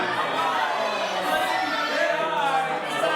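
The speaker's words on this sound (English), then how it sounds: "Do you hear this, boys? You hear this? This is a sold-out crowd" A packed, sold-out wrestling crowd at a Pro Wrestling Darwin event, with a dense, steady roar of chatter and crowd noise and some cheering, fairly loud and continuous.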